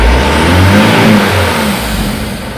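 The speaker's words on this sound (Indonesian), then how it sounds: "Coba kalau saya gas tapi tidak saya exhaust brake, turun RPM nya cepat apa enggak?" A Mitsubishi Canter truck engine revs loudly and close by, then its RPM falls away gradually with the exhaust brake off, a deep steady drone that slowly eases down.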